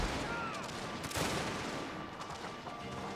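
Massed musket and cannon fire from a Total War battle between Russian and American forces, a dense rolling volley with a sharp burst near the middle over continuous battlefield din.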